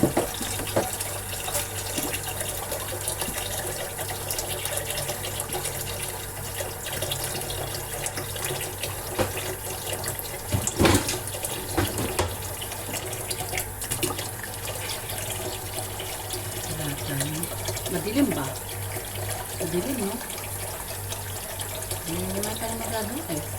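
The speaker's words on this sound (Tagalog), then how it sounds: "Tayo ay maghugas ng ating pinagkalatan." Steady water running from a tap during washing up, a continuous hiss with occasional clinks of dishes, under someone speaking.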